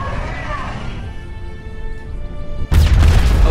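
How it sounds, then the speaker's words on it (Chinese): A large explosion in the video game GTA 5, played with a Thanos mod, bursts in loud and broadband near the end after a stretch of game noise and faint tones. "好大的爆炸！"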